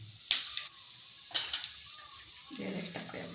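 Mustard seeds and cumin drop into hot oil and sizzle with a soft hiss, crackling after sharp clinks of a pan. Stirring clatter and a voice follow near the end.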